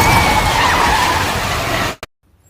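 A car skids hard through a corner in an action film, its tires screeching loudly and continuously over engine noise before the sound cuts off abruptly into near silence.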